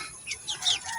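Broiler chickens in a backyard pen give a few quiet, short clucks, brief and close, with no talking.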